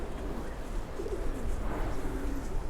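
Pigeons coo softly and repeatedly in a loft with young birds, low rolling calls over a steady background hum.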